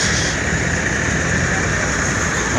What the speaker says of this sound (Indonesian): Suara mesin masih mulus.